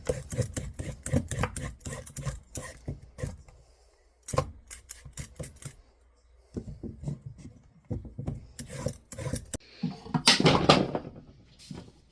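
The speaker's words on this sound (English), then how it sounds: "grate up the carrots." Carrots being grated for a vegan carrot cake, rapid rasping strokes in close, steady runs, then a short pause and a louder, denser burst of grating near the end.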